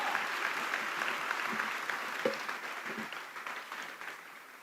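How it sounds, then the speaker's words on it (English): Guests at a South Carolina Republican Party fundraising dinner give a round of applause, a dense wash of clapping heard from a distance that gradually fades down. "Y'all give him one more round of applause."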